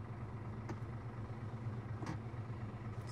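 A Scania 540S truck engine runs with a steady low rumble from inside the cab, quiet and even throughout, with a few faint clicks over it and no talking.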